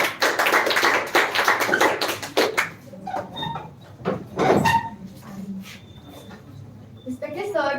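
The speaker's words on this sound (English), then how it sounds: "clap for Miss Sanya Khatun" An audience claps for the next speaker at a spoken English speech competition semi-final. Dense, lively applause fills the first two and a half seconds, then fades out as talking takes over.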